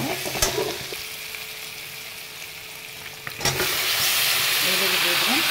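Onions fry in a pan that was splashed with vinegar, close steady sizzling with a few early clatters of the utensil before the hiss swells louder and denser over a hot flame.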